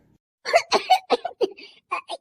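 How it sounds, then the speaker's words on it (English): Someone coughs repeatedly while choking on chocolate milk, a quick series of sharp, close bursts that turn almost laugh-like. "Joy coughed on the chocolate milk."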